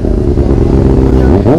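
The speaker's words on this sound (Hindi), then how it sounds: "आप देख सकते हैं कितनी सुपर बाइक से है" A 1000 RR superbike revs loudly and close on a mountain ride from Dehradun to Chakrata, a steady deep engine drone that climbs in pitch toward the end, with no talk over it.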